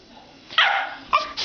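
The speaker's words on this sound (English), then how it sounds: "If you leave him alone, he starts barking." A pet dog barks and yips at close range, a loud bark followed by a couple of shorter sharp yelps in quick succession, with household sounds in the background.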